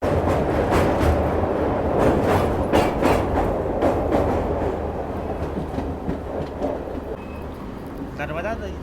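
The Bandra–Delhi Sarai Rohilla Garib Rath Express runs near Bharuch, Gujarat, just past the Narmada river crossing, with a steady rumble and rolling wheel noise throughout. A voice talks over it.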